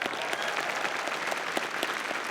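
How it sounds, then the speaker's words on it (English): Graduation audience applauding continuously in a large hall, a steady wash of many clapping hands at moderate distance, with no break or talk. "Give yourself a round of applause."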